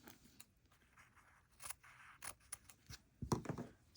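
Scissors snip thread off during hand sewing of a slow-stitch log cabin quilt square, a few faint, quiet cuts and rustles close by.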